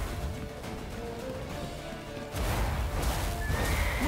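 A horse neighs clearly while hooves clop in The Witcher 3, with a louder burst of activity partway through and no talk.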